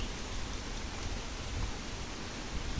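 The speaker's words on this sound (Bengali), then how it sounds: "ওরকম বৃষ্টি না, প্রচুর বৃষ্টি নাই, দেখেন" Light rain from Cyclone Remal in Faridpur, a soft even hiss of drizzle falling steadily throughout, faint and without any voices.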